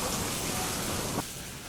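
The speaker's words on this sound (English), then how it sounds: "it is really raining hard out there now" Hard rain falling outside on a cruise ship, a loud, steady wash of broadband hiss that drops abruptly in level after about a second, as though moving out of it.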